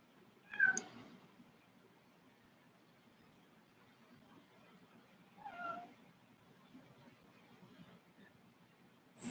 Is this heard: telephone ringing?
no